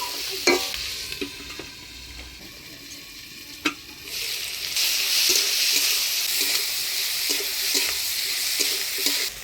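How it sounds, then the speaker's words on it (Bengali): Potatoes and eggplant fry in oil tempered with spices and slit green chillies. Scattered utensil clinks and stirring scrapes come first, then a bright, steady sizzle swells up and continues close by. "আলু বেগুনটা ফোড়নের তেলে একটু ভাজা ভাজা করে নিলাম"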